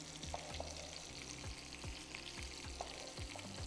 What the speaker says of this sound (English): Just kind of saute all this just for about a minute or two to let the oil coat the potatoes.